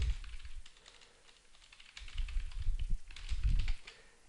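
Keys clatter on a computer keyboard in uneven bursts of close, crisp taps, thinning to a lull and then picking up again more densely, with no one speaking.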